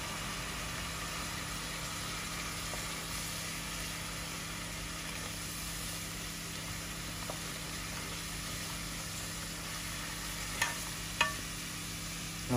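Steady hiss of spice paste frying with meat in a pan, with faint scraping from stirring throughout and a couple of short clinks near the end.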